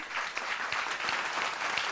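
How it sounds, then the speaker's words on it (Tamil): A crowd applauding steadily, many hands clapping in a dense even patter with a few sharper claps standing out. "ரெண்டு பக்கமும் சமமாக கை தட்டுறாங்க"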